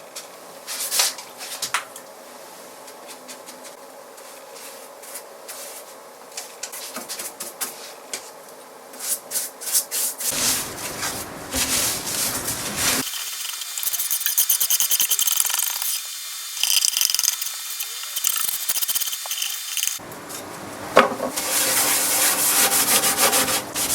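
Finish being stripped by hand from a mahogany cabinet: steady rasping and scraping strokes of varying length and intensity, close up, with brief pauses and a long continuous stretch of harsh abrasion.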